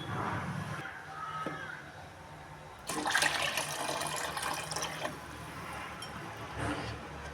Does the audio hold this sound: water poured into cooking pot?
yes